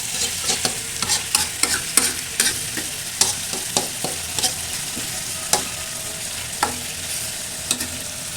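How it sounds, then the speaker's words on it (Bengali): Khichuri and chicken being stirred in a frying pan, a steady oil sizzle under irregular scraping clicks of the spoon against the pan, close and fairly loud, with no voices. "এই যে এখন এটা আমরা নাড়ে নেব।"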